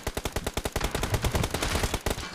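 Gunfire from the mobile battle royale game BGMI rattles out in rapid automatic bursts. The sharp, loud reports come close together, with a brief pause near the end.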